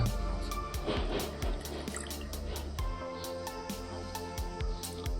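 Water drips and trickles into a small cheap appliance bought online, with faint patters and a steady liquid background, fairly close and without talk.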